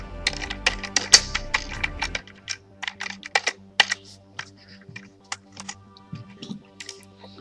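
Rapid clicking keystrokes on a computer keyboard as a password is typed, a steady run of crisp close taps with short pauses, alone without speech.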